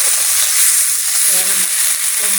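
Cumin, chili and garlic hit hot oil with a loud, continuous hiss and crackle, while a faint voice murmurs in the background.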